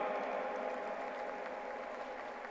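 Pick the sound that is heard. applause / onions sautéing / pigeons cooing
applause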